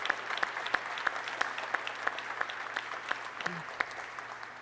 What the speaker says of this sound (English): Let's give all the members of this family an incredible round of applause for their sacrifice.